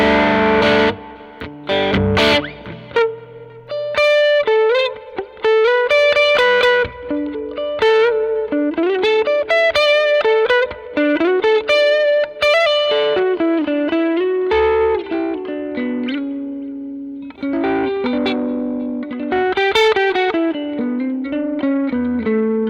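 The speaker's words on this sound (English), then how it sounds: "here's just a little bit of spring reverb after those amps." An electric guitar through a Neural DSP Quad Cortex plays ringing chords and melodic lines with a splashy, springy spring-reverb tail and some distortion, loud and close.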